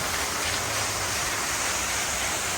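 Steady broadband rush of a waterfall at a restaurant entrance at night, an unbroken wash of falling water heard up close with no voices.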